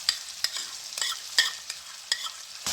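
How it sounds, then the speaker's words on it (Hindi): Sauce and spices with oregano, added for a chicken and vegetable spaghetti, being stirred and fried in a pan, with a steady high sizzle broken by several sharp scraping strokes of a spoon at irregular intervals, close and fairly quiet. "तो हम अच्छी तरह मिक्स कर लेंगे सारे मसाले को। 5 मिनट के लिए मैं अब इसको भूनूंगी।"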